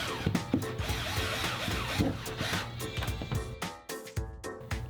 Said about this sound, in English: Drop the bolts in and tighten them down.